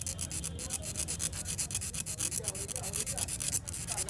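A hand file works a piston ring from a Bajaj CT 100 motorcycle, producing close rhythmic scraping strokes over low background noise and faint talk.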